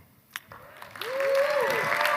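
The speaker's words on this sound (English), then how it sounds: "one more big round of applause for President Susan Ellenberg" Audience applause at the CSAC annual meeting after President Susan Ellenberg's acceptance speech, swelling in about a second in and holding as steady dense clapping, with a sliding tone sounding over it.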